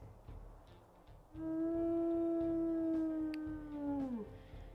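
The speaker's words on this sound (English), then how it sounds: "We'll also listen to his howls." A wolfdog lets out one long, steady, close howl lasting a few seconds, holding its pitch before dropping off at the end, over a low background rumble.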